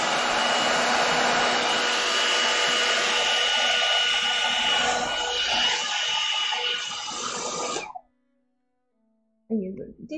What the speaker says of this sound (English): I'm going to put my hairdryer on here for a second, so this might get noisy.